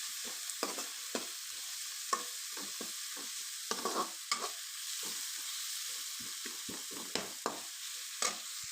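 Turmeric is stirred into a sizzling pan mixture while chicken sukka is being made. A constant frying hiss runs under repeated irregular scrapes and knocks of the spoon against the pan, close and moderately loud, with no talk.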